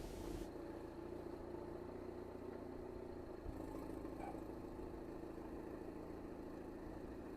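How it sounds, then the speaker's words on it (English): A 2010s Mini Clubman Cooper S (R55) engine idles steadily with a low, continuous rumble and a faint puffing rasp from a leaking exhaust manifold, heard alone without voices. "Sounds like the manifold's blowing a bit."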